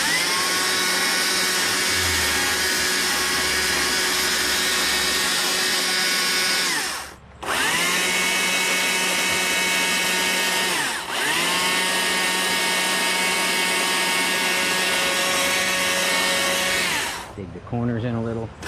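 A chainsaw carves wood to shape a wood spirit birdhouse, its engine howling loud and steady at close range, dipping briefly twice as the throttle eases, then cutting off near the end.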